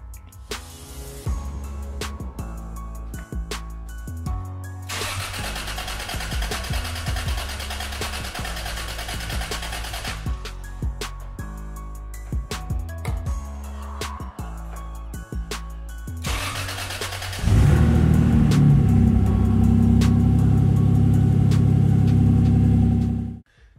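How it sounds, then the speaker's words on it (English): A Mk4 Toyota Supra engine, freshly swapped to a six-speed manual, rumbles and revs unevenly, then catches and settles into a loud, steady run near the end. "the engine sounds really good. It started right away as you saw"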